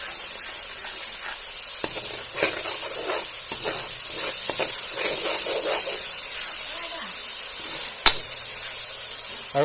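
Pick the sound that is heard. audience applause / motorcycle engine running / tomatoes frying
tomatoes frying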